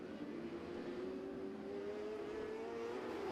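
Race cars circling an oval at Le RPM Speedway during a NASCAR season opener, their engines a steady, fairly distant drone with a slowly rising pitch throughout, no voices.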